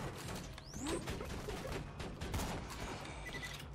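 Rapid turret gunfire in the sci-fi shooter Borderlands 2, a dense, steady barrage of shots with a whooshing streak, moderately loud and continuous across the scene.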